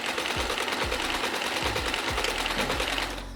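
A Janome Combi 10 combination sewing machine stitching in reverse, its needle mechanism chattering in a steady, rapid rhythm up close, with low thumps repeating underneath before the motor winds down at the end.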